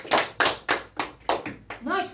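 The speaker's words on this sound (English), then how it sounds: "Please give her a round of applause" Short bursts of hand clapping from a small group at a Mafia party game, about five quick swells of applause in a row, then a voice at the end.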